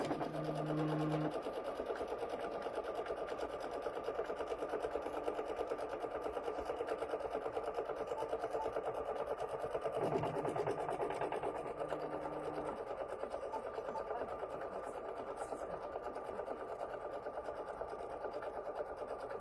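A sewing machine stitches a Mystery WallFlower quilt, giving a steady, even mechanical whir that runs unbroken from start to finish with no voices over it.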